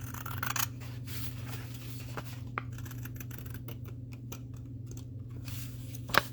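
Acrylic scissors snip through paper in a few quiet, crisp cuts with one sharper snip near the end, over a steady low background hum.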